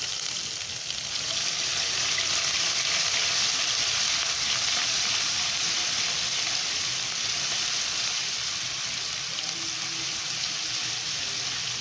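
Ginger and garlic sizzle and fry in a hot pan of oil for aloo gobi, a steady hissing crackle that runs without pause at close range, with no voices over it.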